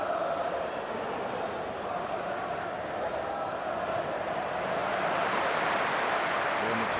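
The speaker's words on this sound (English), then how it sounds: "Warm applause for that ball from Keane" Stadium crowd at a Premier League football match between Manchester United and Bolton, a steady distant roar of applause and murmur that swells slightly toward the end, with no voices standing out.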